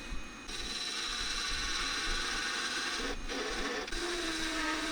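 A wooden box lid is shaped on a lathe, giving a continuous soft scraping, rasping tool-on-wood sound over a steady hum, with two brief pauses near the end.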